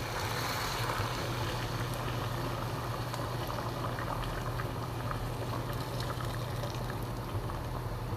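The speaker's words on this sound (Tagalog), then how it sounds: "So, lagyan natin siya ng tubig na mainit" Hot water poured into macaroni cooking with vegetables in a pot, giving a steady, loud bubbling and rushing liquid wash with a low hum throughout, no voices.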